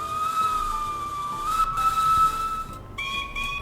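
A steam locomotive whistle in the Roblox RPMR train game, a single long steady tone that bends slightly in pitch, cuts off briefly, then resumes at a higher pitch, with no talk.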